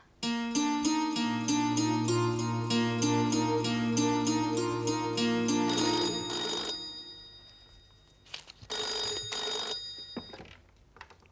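A telephone rings with a call from Sanjay, a bright repeating electronic ringtone melody sounding loud and close for several seconds, then cutting off, followed by a few faint clicks and handling noises.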